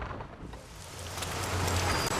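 Heavy tropical rain pours down in Panama's rainy season, a dense, steady hiss of downpour that builds slightly louder over its length, with no voices.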